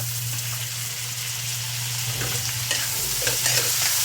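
Onions and tomatoes frying for a sweet and sour tilapia sauce, a steady close sizzle with a low hum beneath and scraping stirs building toward the end, no talking.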